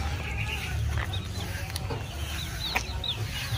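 Free-range chickens clucking in a large grassy area, soft scattered clucks and short calls over a steady low rumble of background noise, fairly close.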